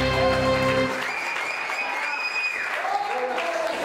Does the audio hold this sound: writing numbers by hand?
no